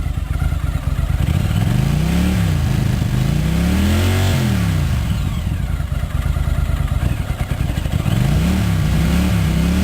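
Honda CX500 Turbo motorcycle engine with a newly fitted clutch, revved repeatedly up and down at close range, loud and steady with no talking.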